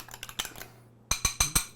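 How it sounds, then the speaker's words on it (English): An egg whisked in a bowl for empanada filling, with light, quick clinking taps of the whisk against the bowl in two short bursts separated by a brief pause, over a low steady hum. "I've got 1 egg that I'm going to break. Just like that. I'm going to whisk it up a little bit."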